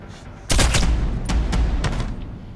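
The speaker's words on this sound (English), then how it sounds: "Shoot him, Sam!" Gunfire in the Splinter Cell Blacklist video game: a burst of loud, rapid shots starts abruptly and continues in several quick volleys over about two seconds, against a dense game background.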